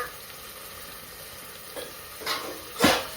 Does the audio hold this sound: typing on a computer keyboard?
no